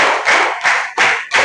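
Children clap their hands in a counting clap game, four loud, evenly spaced bursts of clapping in a steady rhythm, close and clear with no talk over them.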